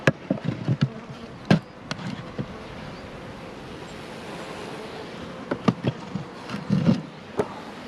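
A small cold-weather honeybee cluster buzzes softly and steadily at close range, with scattered sharp knocks and rustles over the drone.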